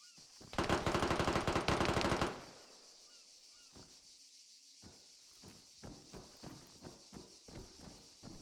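A close, loud burst of rapid automatic gunfire in an online shooter game, lasting under two seconds, followed by quieter in-game footsteps and movement sounds.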